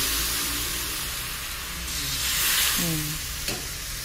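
Vegetable stock added to a stir-fry in a hot wok: a continuous close sizzle swells into a louder hissing burst as the liquid hits the pan, with a brief clink and faint voices in the background.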